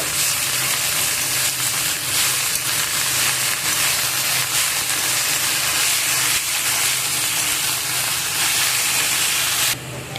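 Khesari greens and onion shoots sizzle and hiss steadily as they fry and are stirred in a pan, a loud, continuous crackle lasting throughout with no voices.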